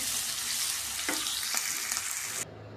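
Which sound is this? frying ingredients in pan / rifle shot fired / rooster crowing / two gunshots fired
frying ingredients in pan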